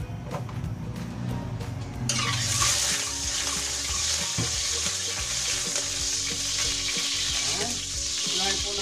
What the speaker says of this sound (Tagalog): ngayon po at mainit na ang ating kawali. Magigisa na po tayo.